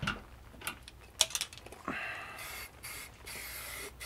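Satin black spray paint dusted onto parts of a second-gen Chevrolet Colorado/GMC Canyon: a few short hissing spray bursts and light clicks of the can, close by, with faint handling noise in between.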